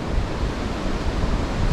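Wind blowing through trees high in the Tasmanian mountains, a steady, close low roar with buffeting gusts and no voices.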